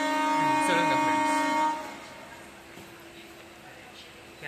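A Chennai local train hums loudly with a sustained tonal drone that fades partway through, leaving a steady rumbling ride underneath.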